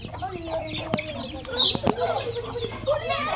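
Village chickens clucking close by, a busy run of short clucks and squawks over a few seconds, with faint voices in the background.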